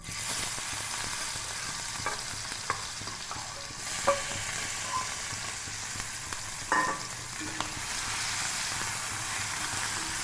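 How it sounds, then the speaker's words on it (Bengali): Marinated prawns frying in mustard oil in a frying pan, giving a steady sizzle that is softer than usual, with scattered stirring scrapes and clinks and no one talking. "চিংড়িগুলোকে লাল লাল করে ভেজে, চিংড়িগুলো লাল লাল করে ভাজা হয়ে গেছে"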